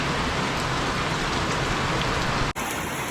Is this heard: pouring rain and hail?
yes